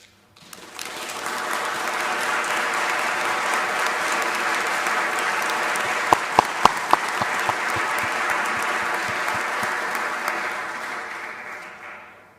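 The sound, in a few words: applause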